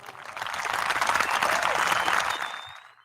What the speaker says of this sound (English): Let's give a round of applause to both our guests today